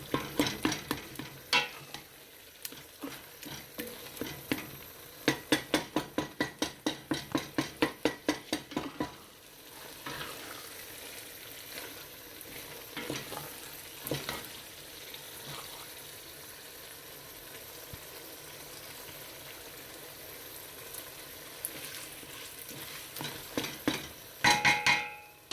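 Spoon stirring mustard greens in a pan for sarson ka saag: a run of quick rhythmic scraping clacks, then steady soft sizzling and occasional taps, fairly quiet and close with no voices.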